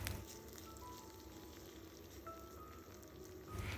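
Crushed ginger, garlic and curry leaves fry in hot oil in a pan, giving a steady, close sizzle that holds through with a brief louder crackle near the end.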